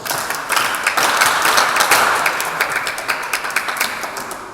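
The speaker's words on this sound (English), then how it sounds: "Clap for yourselves." Schoolchildren at a school for the blind clap for themselves, a loud, dense, continuous round of applause close by that thins slightly toward the end.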